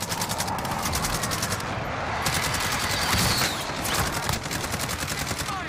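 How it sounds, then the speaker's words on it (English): Rapid gunfire in a video game, dense bursts of automatic shots rattling in quick succession, loud and close, continuing with brief gaps. "There's someone shooting from the gun store."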